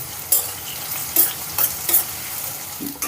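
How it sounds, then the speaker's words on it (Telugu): Finely chopped onions fry in a pan under a steady sizzle while a spoon stirs them, scraping in several distinct strokes at a loose rhythm. No voices are heard. "ఉల్లిపాయ ముక్కల్ని ఒక రెండు నిమిషాల పాటు మెత్తబడేంత వరకు వేపుకుందాం"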